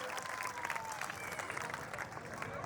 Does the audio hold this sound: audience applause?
yes